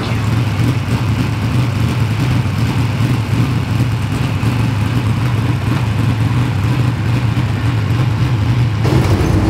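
A race car engine warming up at a night Gold Cup race, a loud steady mid-pitched engine drone that holds throughout with a slight rise near the end, no voices.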